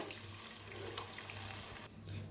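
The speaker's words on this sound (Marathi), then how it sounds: "एकच वाटी पाणी घालूया" A bowl of water is poured into a pan of egg curry masala, a brief close splashing gush over a faint sizzle that cuts off near the end.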